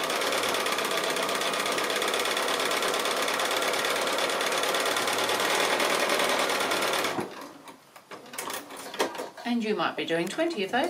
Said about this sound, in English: I'm going to come back and do the second line of sewing, and just the same, we can chain piece these through.